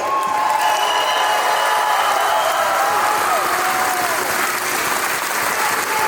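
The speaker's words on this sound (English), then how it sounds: "give him another round of applause" A crowd at an IPW live wrestling show in Hamilton gives a loud, steady round of applause mixed with cheering that fills the whole stretch without letting up.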